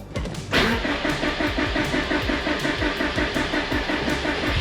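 A Subaru GC8 engine cranks and fires after a fuel pump and regulator fix, then settles into a loud, steady, slightly lumpy idle with a rhythmic pulsing close to the microphone.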